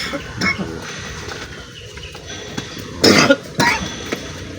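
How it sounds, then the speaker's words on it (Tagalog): A few rough, raspy coughs from an animal burst out over a noisy background, two short bouts close together. "May inuubo pa."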